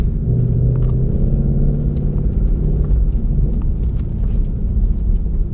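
A 2018 Ford Mustang GT with active exhaust and performance pack cruising at about 20 mph in second gear, its engine a steady, deep, loud rumble heard alone from inside the car.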